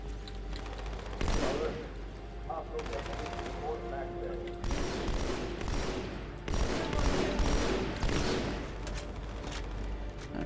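Automatic gunfire in a Halo battle against the Covenant: repeated bursts of rapid shots arrive in several waves of sharp cracks and rattles, with a steady hum underneath and no talking.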